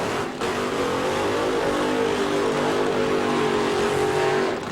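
A drag racing car launches at the 1998 NHRA Autolite Nationals, its engine a loud, sustained, close roar whose pitch climbs steadily before easing off at the end, with no voices over it.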